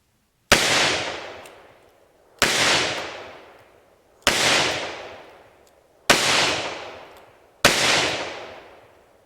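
Five loud handgun shots from a .38 Special and a .45 ACP, evenly spaced about two seconds apart, each a sharp crack followed by a long fading outdoor echo.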